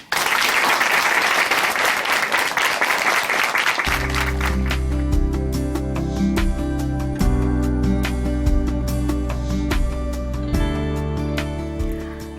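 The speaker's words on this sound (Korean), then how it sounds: "춘천 한마음교회 박미숙 자매님 박수로 모십니다" Audience applause welcoming a guest speaker, Park Mi-suk of Chuncheon Hanmaum Church, at a Christian testimony broadcast; loud dense clapping at first, then music with a steady beat enters after a few seconds as the clapping carries on underneath.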